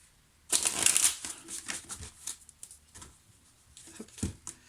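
Tarot cards being shuffled by hand: a run of crisp riffling and papery slapping bursts, loud and close, starting abruptly and continuing in uneven flurries with brief pauses, with no voice over it.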